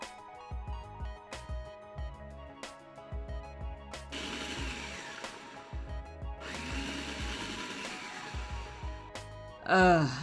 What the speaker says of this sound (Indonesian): Blender hingga halus.